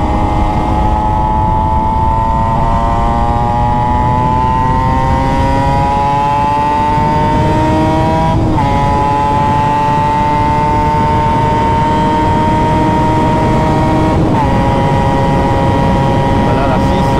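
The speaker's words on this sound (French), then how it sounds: "mais elle accélère dans la côte" A Honda NSR motorcycle with a Malossi 180 kit accelerates uphill, its two-stroke engine holding a loud, steady, rising drone throughout, close to the rider and alone, with brief shifts in tone as the climb goes on.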